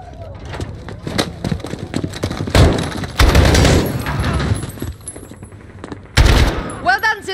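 Bursts of gunfire in a video game, several loud, sharp volleys and single shots spread across the clip, with people talking between and over them.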